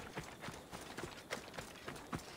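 Horse hooves in the Assassin's Creed Odyssey video game beat in a quick, regular running rhythm, faint and somewhat distant, with no talking.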